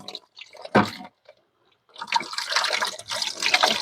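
Water poured to wash fish remains into a pail while making fish hydrolysate fertilizer, close and splashy in short bursts with a brief pause, then a longer steady pour.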